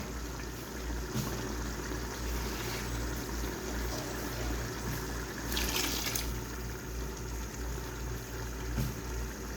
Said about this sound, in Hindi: मैं उतना ही पानी इसके अंदर ऐड करूँगी जिसमें ये गल जाए